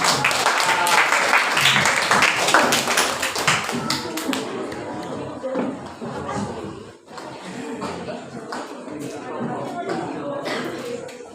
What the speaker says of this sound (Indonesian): Silakan kasih tepuk tangannya.